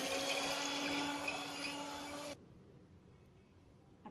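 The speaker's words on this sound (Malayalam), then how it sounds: "അപ്പോൾ അതുവരെയ്ക്ക് നന്നായി ഹൈ സ്പീഡിൽ തന്നെ ബീറ്റ് ചെയ്തെടുക്കുക." An electric mixer beats egg whites at high speed for a coconut semolina cake, giving a steady, bright whirring drone that cuts off abruptly and leaves near silence.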